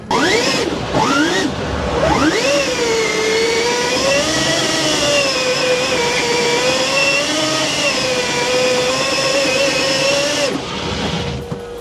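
A STARK-powered Renault Twizy drifts with a loud, steady electric motor whine that sweeps up and holds high pitch, wavering as the car slides, then cuts off abruptly near the end.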